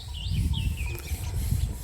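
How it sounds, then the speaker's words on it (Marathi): Birds chirp in short rising and falling calls near the riverbed of the Arunavati river below a dam's main gate, heard over a steady low rumble of wind or flowing water. "पाखरांची किलबिलाट आपण या ठिकाणी ऐकू शकता"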